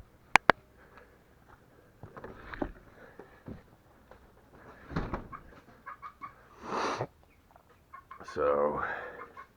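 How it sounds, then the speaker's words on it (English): Chickens cluck and squawk at close range while eating fodder in a farmyard, giving intermittent bursts of calls with short pauses and a louder flurry near the end, over low background rustling. "Just fed the chickens some fodder."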